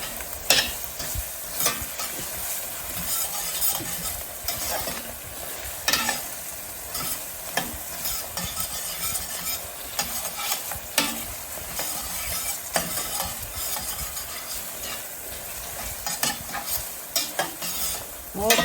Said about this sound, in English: the next ingredient we're going to put in is some garlic. We're going to kick that around a little bit